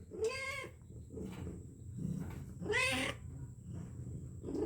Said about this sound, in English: That damn cat, Moodra, she's had her babies.